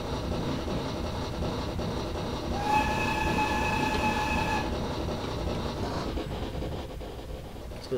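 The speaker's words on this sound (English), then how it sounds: "Yeah, the train's a bit loud." Train running in Train Simulator 2018 on the Isle of Wight, a steady loud rumble of wheels and carriage noise throughout, with a sustained horn-like tone sounding for about two seconds midway.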